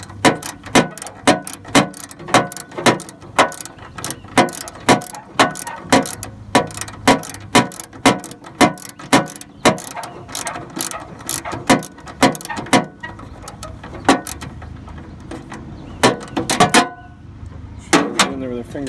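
A ratchet with a 3/8 socket removes a mounting bolt on a riding lawn mower, a quick run of regular clicks, close and loud, that pause and resume with a brief spoken aside.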